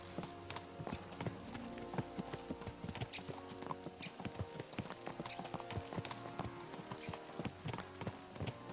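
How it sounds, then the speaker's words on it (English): Horses gallop with rapid clip-clop hoofbeats in the video game Kingdom Come: Deliverance 2, a steady, quiet drumming rhythm of several hooves that runs throughout with no talking. "Let's really spur these horses on, eh?"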